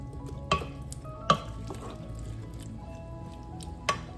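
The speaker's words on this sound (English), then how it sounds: "Again, let's give it a mix." Sautéed chayote squash stirred in a pan, with a few distinct soft clinks and wet squishes of the utensil against the pan over a faint background sizzle.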